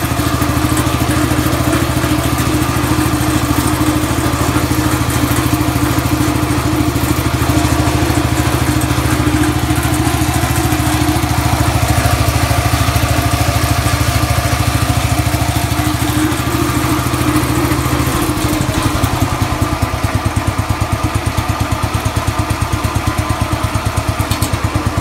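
Cub Cadet lawn tractor engine idling steadily just after a cold start, a continuous loud low mechanical drone with slight clatter that shifts to a rougher, pulsing tone near the end; no talking.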